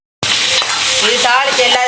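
Fennel seeds sizzle loudly in hot oil in a pan, tempering spices for a vegetable curry, with a dense, steady crackle close up that starts abruptly and continues throughout.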